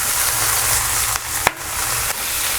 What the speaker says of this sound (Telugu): ఫుల్ ఫ్లేమ్లోనే వేపుకోవాలి, సిమ్ము పెట్టాల్సిన అవసరం లేదు